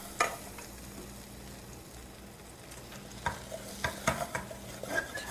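Flour being stirred in butter in a pan to make a white roux: soft, low continuous sizzling with scattered light scraping clicks of a utensil, quiet and close.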